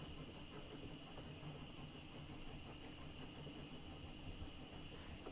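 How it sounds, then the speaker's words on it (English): A train in the video game 80 Days rumbles and judders at a steady, faint level, with a constant rolling drone and a high hiss and no voices. "The train juddered."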